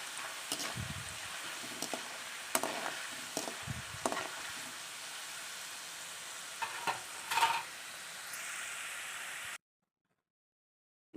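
Jackfruit chips roasting in a pan: a continuous hiss of sizzling broken by intermittent scraping stirs, moderately close, with no talk. The sound cuts out abruptly near the end.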